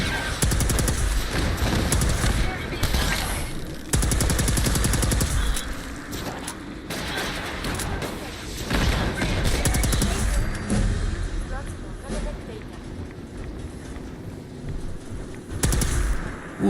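Dense bursts of automatic gunfire from the video game Fallout 4 on Xbox, rapid and loud, in long volleys with short gaps, alongside booming impacts and a game soundtrack.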